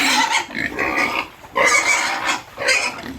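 Pigs grunting and squealing loudly at close range during wet feeding on a farm, with three bursts of noisy oinking in quick succession and no talk.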